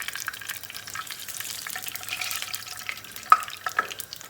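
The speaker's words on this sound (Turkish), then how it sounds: "Yüksek ateşte çevire çevire kızartacağız." Eggplant frying in oil in a pot over high heat, heard as a soft, sparse sizzle with scattered crackles and a couple of sharper pops toward the end.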